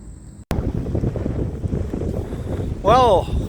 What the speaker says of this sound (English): now all of a sudden the wind is kicking up